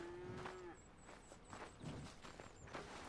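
A cow in Red Dead Redemption 2 gives a low drawn-out moo while being milked, followed by shuffling footsteps and soft game ambience.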